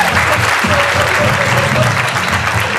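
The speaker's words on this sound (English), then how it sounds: "Could you give him a round of applause, please?" Loud, dense applause from a crowd at the Sounds of Hope performance, a continuous roar of clapping with a few voices mixed in.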